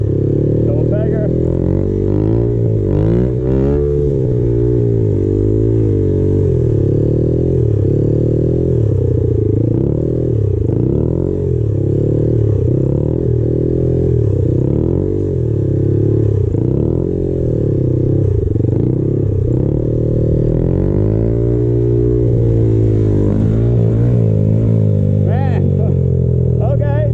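A Honda Grom motorcycle ridden in slow circle practice, its small engine close and constant, rising and falling with throttle blips and gear changes throughout, with a voice talking over it.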